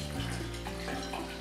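Water pours steadily into a Harrexco high-performance blender jar for a green smoothie, a continuous close splashing stream with no talk over it.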